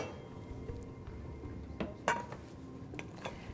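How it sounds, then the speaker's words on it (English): Food being moved into a shallow casserole dish in a kitchen gives a few scattered clinks and taps of utensil against dish, a couple of sharper knocks standing out over a quiet background, with no talking. "we're going to transfer this to our shallow casserole dish"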